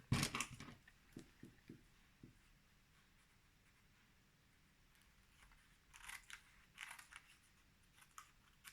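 Scissors snip off excess paper from a handmade card, a quick run of close clicks and cuts at first, then quieter rustling and handling of paper.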